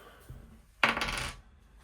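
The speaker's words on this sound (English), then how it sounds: "This dice isn't really rolling." Dice dropped and rolled on a tabletop while generating tabletop roleplaying character stats, giving one close, bright clattering burst that fades out quickly with no talk over it.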